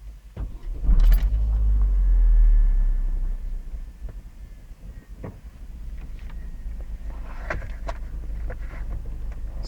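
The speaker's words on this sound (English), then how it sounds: "So now the car is on." A Vauxhall Zafira's engine cranks and catches with a loud, deep rumble, then settles into a quieter, steady idle hum inside the car.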